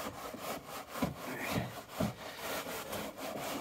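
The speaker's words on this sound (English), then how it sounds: "Give this a nice good scrub." A brush scrubs the plastic wheel arch liner of a BMW M4 CS, giving quiet rhythmic rasping strokes, roughly two per second, close up.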